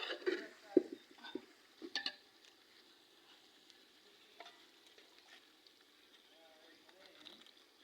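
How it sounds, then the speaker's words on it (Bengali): Biryani cooks in a pot at a picnic, with a soft, faint sizzle and a few scraping stirs and light clinks early on, then a quiet simmering background as people talk nearby. "বিরিয়ানি রান্না হচ্ছে"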